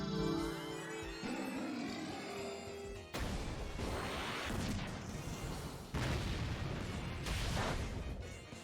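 Sunsteel Strike attack in Pokémon Sword, a loud crashing, roaring blast with heavy booming impacts and sweeping rushes, cutting off abruptly partway through and then bursting back in sustained full force.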